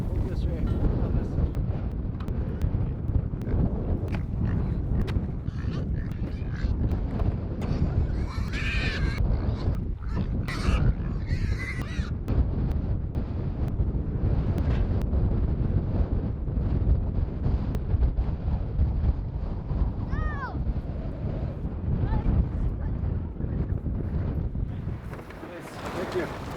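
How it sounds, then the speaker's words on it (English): Strong, steady wind roars across an open homestead, buffeting the microphone with constant low rumble throughout, while a few faint bird calls and brief voices come through underneath. "Man, it's windy."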